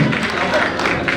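Audience at an award ceremony in Lahore clapping, a brief dense patter of applause with crowd murmur and a voice speaking over it.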